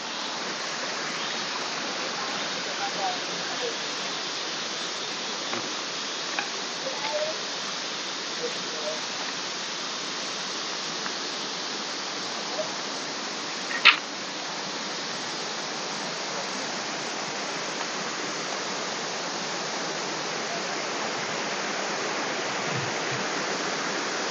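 Tat Mok Waterfall in Phetchabun, running with a fairly modest flow, gives a steady, even rush of falling water throughout, with a few faint knocks and one brief sharp click partway through.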